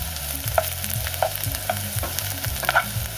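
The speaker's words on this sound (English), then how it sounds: "add some sliced onions to the pan. Cook them down for about 3 or 4 minutes" Sliced onions frying in oil in a pan, a close steady sizzle with a few light spatula scrapes and taps recurring about every half second, no talking.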